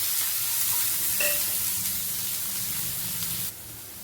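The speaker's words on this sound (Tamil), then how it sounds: "அதை போட்டு நல்லா கொஞ்சம் நல்லா கலர் மாறி வர வரைக்கும் வதக்கணும்." Finely chopped large onion sautéing in a pan for a yogurt masala curry, a steady close sizzle and fry with a stirring scrape near the middle, running alone and cutting lower just before the end.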